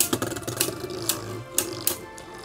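Beyblade spinning tops clatter and click against each other in a small stadium, a run of sharp, irregular metallic and plastic ticks close up with no talking.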